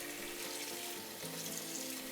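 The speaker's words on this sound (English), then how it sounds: "rinse them with cold water." A steady, soft hiss of cold tap water pours continuously over rice noodles being rinsed, with faint splashing beneath it and no voices.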